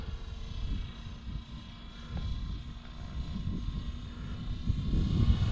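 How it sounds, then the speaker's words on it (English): An Align T-Rex 650X RC helicopter flies nearby with a steady whining rotor and motor drone, holding constant and swelling slightly louder toward the end, with no talking. "what a beautiful helicopter."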